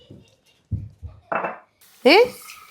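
Dishes being washed by hand: a few separate clinks and knocks of plates and pots, sparse and close, followed by a brighter scraping clatter, with quiet gaps between.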